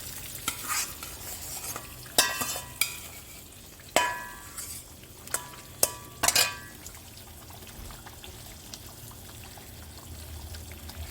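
Fried turnips tumble into a pan of shaljam korma and are stirred through, giving a few sharp scraping clinks of the spoon over a soft background sizzle.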